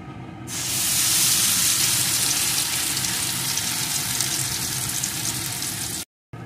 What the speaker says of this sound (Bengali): এখন যে পেস্টটি আমি করে রেখেছিলাম ওই পেস্টটিকে এই তেলের ভিতরে দিয়ে দেব।